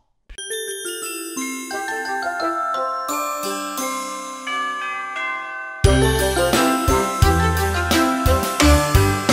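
Bells ring out in a bright, layered chiming that grows fuller and louder halfway through, with strikes overlapping in a steady, musical pattern.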